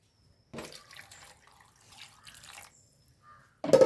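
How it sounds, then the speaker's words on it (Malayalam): Water splashes and trickles into a cooking pot of chana dal and pumpkin curry in short bursts, fairly close, ending with a louder pour. "ഇതിലേക്ക് കുറച്ച് വെള്ളം ഒഴിക്കുക കേട്ടോ"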